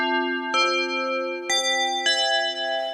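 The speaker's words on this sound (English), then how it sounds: "This is the famous tubular bells from the DX7." A Yamaha DX7 synthesizer plays its tubular bells preset: four clear metallic bell strikes with long ringing overtones decaying between hits, alone with no talk.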